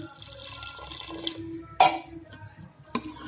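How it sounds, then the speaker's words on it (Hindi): Water poured into a pan of mushroom and peas curry, a short close splash and trickle with faint background hum and a couple of sharp knocks. "इसमें हमने अब थोड़ा सा पानी डाल देना है,"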